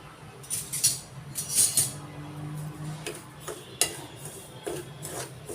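Semolina (rava) dry-roasting in a pan on a low flame for vegetable upma, with soft grainy rubbing and a series of light ticking scrapes and taps from the stirring spoon, close and quiet without speech.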